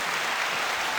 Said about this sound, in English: An applause break.